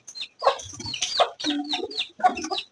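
Close, clear clucking from a hen and rooster, a string of short throaty calls and squawks in quick succession, with no voices over them.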